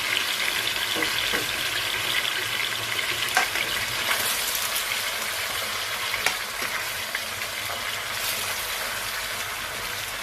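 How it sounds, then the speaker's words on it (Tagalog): Tomatoes sautéing in a hot pan for shrimp and chicken-skin binagoongan, giving a steady close sizzle and crackle throughout with occasional scrape and stir clicks, and no talking. "Next natin, igisa na natin itong kamatis."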